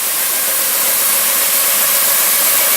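A test-fired steam boiler flash steams as water is added, giving a loud, steady, broadband hiss that fills the moment without pause.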